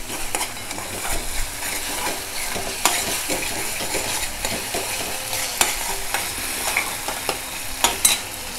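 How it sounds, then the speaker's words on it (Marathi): Ginger-garlic paste frying with softened tomato and onion for a Malvani-style mushroom curry, a steady loud sizzle broken by frequent scrapes and knocks of a spoon stirring in the pan. "आता थोडंसं याच्यामध्ये आलं लसूणची पेस्ट घालते, ती चांगली परतून घेऊया"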